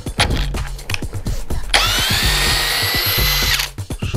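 A Makita XGT HP001G 40V cordless drill drives a screw into wood. The motor gives a loud, rising whine that lasts about two seconds, with clicks and tool handling noise before and after.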